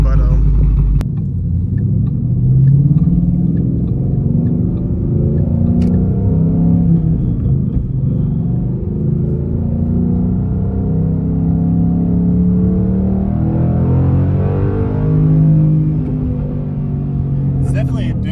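A Ford Mustang Boss 302 accelerates hard from inside the car, a loud engine drone rising through the revs toward the limiter, with someone talking under it.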